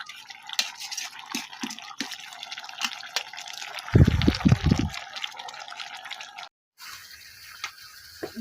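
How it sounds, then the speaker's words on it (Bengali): Water is poured into a pan of cooking vegetable stalks, giving a loud gushing splash partway through. Scattered clinks and drips come before it, and it ends in a sharp cut to quieter sizzling. "দেখো বন্ধুরা আমি এখন পানি দিয়ে দিচ্ছি।"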